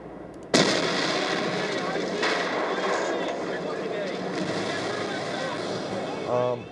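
A loud simulated IED explosion bursts suddenly, then a long rumbling, crackling roar of debris and noise fills the scene, ending with a brief rattling burst.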